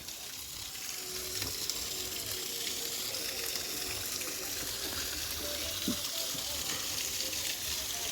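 Water steadily poured into holes dug in the ground around banana plants on a rural plot, making a continuous gushing, splashing wash that stays even throughout, with a few faint clinks and no talk.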